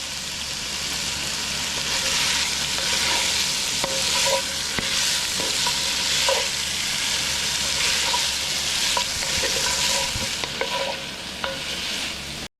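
Sausage and ham render down in a pot for Cajun jambalaya, giving a loud, constant sizzle close up. Scattered scrapes and taps of stirring run through it, with no talk.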